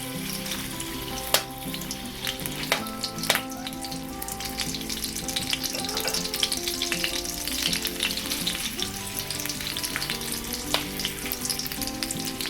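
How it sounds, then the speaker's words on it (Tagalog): Spam slices frying in a pan toward golden brown, a steady crackling sizzle with scattered sharp pops, loud and continuous with no talking. "So ngayon ay maghihintay lang po tayo ng mga 5 minutes para maluto itong ating spam or mag golden brown"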